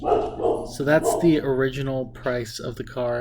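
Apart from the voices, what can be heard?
dog barking in the background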